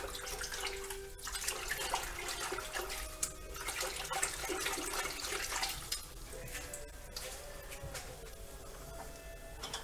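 Water rinses cleaned parts from a 1979 carburetor, including a power piston, in a continuous splashing, hissing flow over about ten seconds, close and moderately loud, with no speech.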